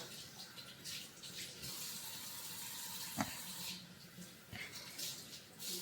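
Tap water runs steadily into a sink as fresh herbs are rinsed under it, a soft continuous splashing rush with a small clunk midway, faint and close.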